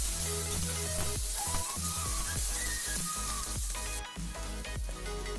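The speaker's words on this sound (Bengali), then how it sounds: "পেঁয়াজটা হালকা করেই ভাজতে হবে" Chopped onion sizzles steadily in hot oil with whole cinnamon, cardamom and cloves for a malai kofta curry. The frying hiss is loud and continuous, with faint music playing underneath.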